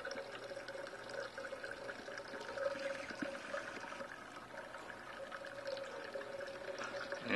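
Yeast starter poured into a beer fermenter for a Hoegaarden-style witbier makes a faint steady stream of liquid splashing, continuous and low-level throughout.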